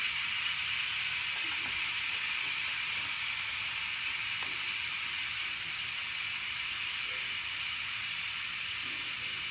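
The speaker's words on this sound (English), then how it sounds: "I'm just letting the steam come out of my cooker" Steam vents from the release valve of a pressure cooker while a roast chicken with carrots and potatoes cooks, a constant loud, even hiss held close up with no break and no voices.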